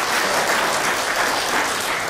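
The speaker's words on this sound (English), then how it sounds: "Let's give the Army a good applause for their birthday." An audience at a Korean War 62nd anniversary ceremony gives a round of applause for the US Army's 237th birthday, a dense, steady clapping that fills the whole moment.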